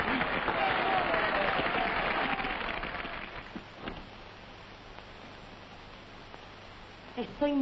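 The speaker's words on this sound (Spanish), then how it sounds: "¡Un aplauso!" Theatre audience applause greeting a singer, a loud burst of clapping that fades after a few seconds into a quieter room with faint rustling.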